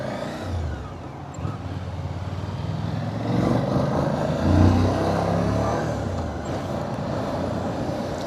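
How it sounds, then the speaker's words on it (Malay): A broad rumble of car and truck engines rises and falls in a village traffic jam, with passing vehicles and a swell of revving midway, heard from close by with no talk. "Kat kampung pun boleh jadi traffic jam."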